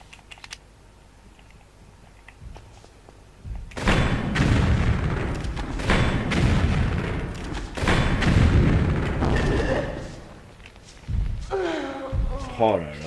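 Rocket launcher fire in the Tomb Raider 3 video game: heavy, booming blasts roll through several seconds of loud, dense noise, with someone talking over the game sound.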